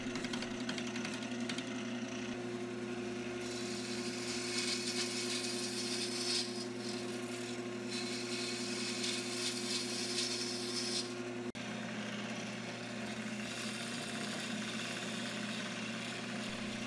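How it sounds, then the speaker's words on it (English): Maple wood pieces turn on a lathe while shaping a Thor's hammer prop. The motor hums in a steady, continuous drone, fairly faint, with no talking. "I've got it remounted back on my lathe, and now I can turn the two maple pieces down."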